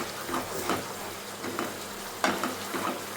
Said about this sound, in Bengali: এবার সবগুলোকে ভালো করে মিশিয়ে মশলাটাকে ভালো মতো কষাতে হবে, যতক্ষণ এটার থেকে তেল না ছাড়বে